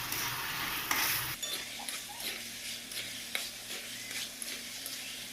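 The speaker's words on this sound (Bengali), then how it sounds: "চিকেনটা দিয়ে একটু ভালো করে কষে নিতে হবে।" Chicken pieces sizzling in a pan for curry while a spoon stirs and scrapes them, steady frying hiss under intermittent clinks of utensil against metal, close up.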